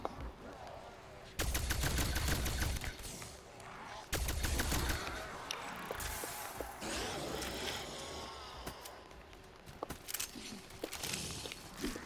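Gunfire in the video game Call of Duty: Black Ops Cold War, with two loud bursts of rapid automatic fire followed by scattered single shots and movement sounds, close and punchy.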